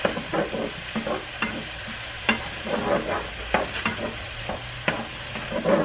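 Mushrooms and zucchini sauté in a pan, giving a steady close sizzle broken by regular scraping stirs from a utensil, with no talking.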